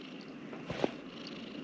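A soft, close cat purr, a brief low rumbling vibration with a faint rise midway.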